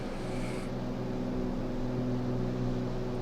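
A Piper PA-28-181 Archer III piston engine and propeller drone steadily in a flight simulator, a constant low buzzing hum with a brief higher hiss at the start, even and unbroken.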